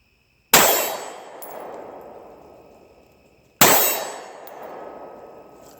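Two loud, ringing metallic clangs from gunshots striking steel targets at a shooting range, about three seconds apart, each a sharp hit followed by a long fading ring.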